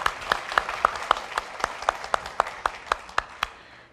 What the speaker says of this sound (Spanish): Podemos aplaudirle sí al Señor.